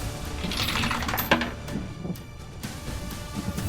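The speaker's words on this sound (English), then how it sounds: "Sounds like a lot of dice." A big handful of dice rolls across a table as a dense, loud clatter of many small hard pieces rattling and tumbling together, easing off near the end.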